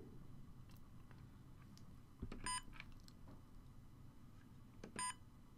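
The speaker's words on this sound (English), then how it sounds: "But I do hate that beeping noise." A Ceyomur CY55 trail camera gives two short, faint electronic beeps a few seconds apart, each a high tonal chirp over quiet background hiss, with no talking.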